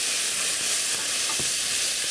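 Portobello mushrooms frying in a pan give a steady, loud, close sizzle, an even hiss with no talking.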